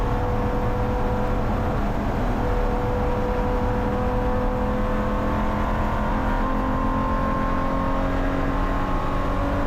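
A Mazda Miata race car at a Willow Springs race: a loud, continuous engine drone with steady whining tones that holds throughout without pause.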